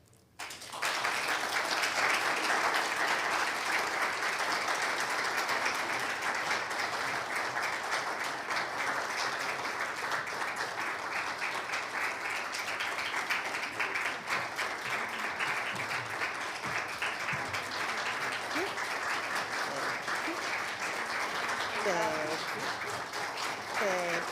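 Sustained audience applause for home team leaders, a steady even roar of many hands clapping continuously, with a few voices rising near the end.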